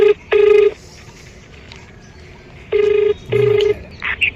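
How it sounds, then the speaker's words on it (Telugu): A phone plays dialing tones to place a call: four loud, steady beeps come in two pairs with a pause between them, followed by a short higher chirp. "నేనే ఫోన్ చేసుకుంటా"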